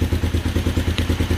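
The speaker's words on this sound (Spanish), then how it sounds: "Ahora tengo prendida la moto ya con la bobina de alta nueva." A motorcycle engine running on a new high-voltage ignition coil, idling up close with a steady, rhythmic thumping pulse and a mechanical clatter.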